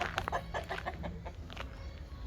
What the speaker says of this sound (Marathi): हे बघा ही खऱ्या कोंबड्या